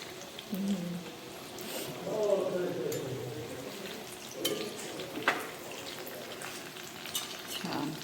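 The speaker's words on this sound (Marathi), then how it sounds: "एवढ्या सगळ्या बाटी तळून घ्यायच्या आहेत" Dough balls for dal baati frying in hot oil, a soft bubbling sizzle with occasional stirring clinks and scrapes, heard close up under intermittent talk.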